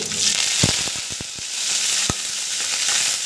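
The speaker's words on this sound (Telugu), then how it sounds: "ఒక రెండు ఎండుమిర్చి ఒక నాలుగైదు వెల్లుల్లిపాయలు తీసుకోండి ఇవి కూడా బాగా వేగనివ్వండి" Dried red chillies and garlic sizzle in hot oil for a tempering, with a steady bright crackle throughout and a few sharp pops and stirring knocks near the start.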